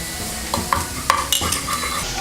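Spice powders being stirred into bottle gourd dal frying over a low flame, with crisp clinks and scrapes of a spoon on the pan above a continuous close sizzle.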